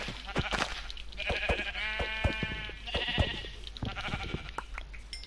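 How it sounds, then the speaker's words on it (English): Sheep bleat repeatedly in the Minecraft video game, several short wavering calls close by over a faint background, with no talk. "There are two sheep over here."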